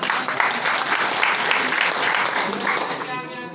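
Loud, sustained applause from a gathered crowd of workers and officials at a Labour Welfare Day ceremony at the Darbhanga Collectorate, steady clapping across the whole stretch that fades slightly toward the end.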